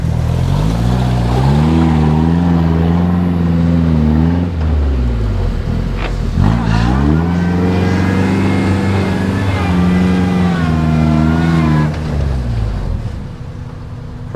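A one-ton Toyota truck with a 5EZFE engine climbs off-road in Sand Hollow, its engine loud and close, revving up through rising pitches, dropping briefly as it shifts, then pulling hard again before easing off at the end.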